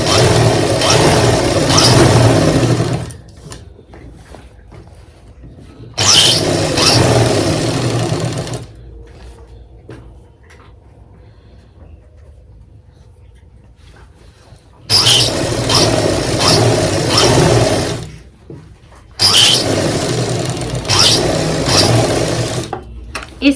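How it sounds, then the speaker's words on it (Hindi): A sewing machine stitches a pocket onto trousers in loud bursts of rapid whirring, three long runs separated by near-silent pauses, with a quiet low hum between them. "और अपनी सिलाई के साथ ही अपनी जेब को यहाँ पे सेट कर लेंगे।"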